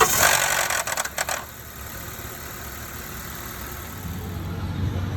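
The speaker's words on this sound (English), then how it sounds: "This is what's making noise and rattling cold starts" Cold start of a 2012 Honda CR-V with a worn VTC gear: a brief burst of harsh rattling clatter at startup settles within about a second into a steady, close idle hum.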